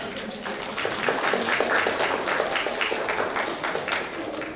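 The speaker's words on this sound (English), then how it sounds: "orchestra students, can you all give your families a round of applause?" Families and students at a Nichols Middle School orchestra concert applaud, a sustained, moderately distant wash of clapping with some crowd murmur underneath.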